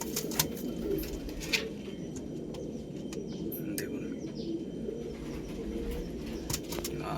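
Several pigeons coo softly at close range in a loft, low murmuring calls with occasional sharper chirps and clicks, while someone talks over them.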